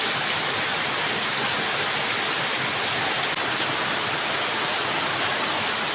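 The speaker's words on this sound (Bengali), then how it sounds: "প্রচণ্ড বৃষ্টি আর অন্ধকার হয়ে গেছে" Heavy rain pours down steadily in a dense, loud hiss that fills the whole clip without letting up.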